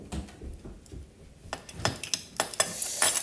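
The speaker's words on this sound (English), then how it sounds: "keep mixing" Sugar being stirred into a homemade body scrub mixture gives a gritty scraping and clinking of a utensil against a bowl, close and uneven, growing busier toward the end, with no talking.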